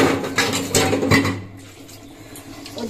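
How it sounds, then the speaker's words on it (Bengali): Water poured into a pot of egg curry after the spices are fried down in a home kitchen, giving a close, brief splashing gush with a few clinks of the pot before settling into a soft simmering hiss. "আর এবার দিয়ে দিলাম জল"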